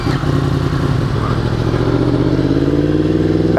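A Yamaha FZ-10 motorcycle with a weak battery churns and rumbles up close, a loud, steady low mechanical drone with a rapid pulsing beat and no voices.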